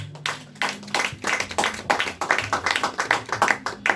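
Bursts of clapping from a church congregation, uneven and rhythmic in places, with musical tones and a voice faintly underneath.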